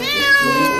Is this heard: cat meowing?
yes